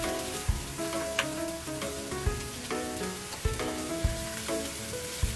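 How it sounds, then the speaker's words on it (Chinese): Minced pork stir-fried in hot oil in a wok, a continuous close sizzle punctuated by regular sharp clacks of the spatula against the pan, no talk. "就把我的肉泥放进去。 开炒"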